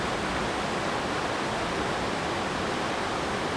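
Steady broadband rush of river water pouring down Quechee Gorge, a continuous, even roar with no breaks or voices over it.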